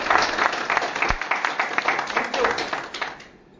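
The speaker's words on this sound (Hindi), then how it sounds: "सभी के लिए एक बार जोरदार तालियां" Loud applause from a seminar audience at a motivational talk, thick steady clapping filling the room for a few seconds before tapering off, with some voices mixed in.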